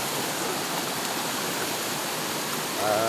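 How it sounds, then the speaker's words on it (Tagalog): Steady rushing of flowing river water fills the whole stretch, a constant broadband wash with no voices. "Dito pala tayo ngayon sa ilog."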